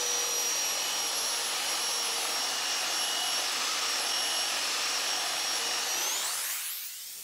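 A power sander with a taped-up dust bag removes material from wood, giving a loud, steady, close whine that holds level before winding down at the end.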